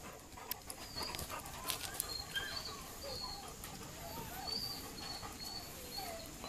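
A dog pants steadily nearby, with faint birdsong and soft chirps in the background; quiet and continuous.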